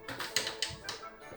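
Scissors cutting the doubled-up paper edges off a handmade envelope, giving a few quick close snips and taps in a short burst.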